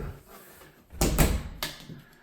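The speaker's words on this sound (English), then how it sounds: "and they shut their door" A bedroom door swings and shuts with a quick double knock of wood against the frame, followed by a softer latch click, close by in a quiet room.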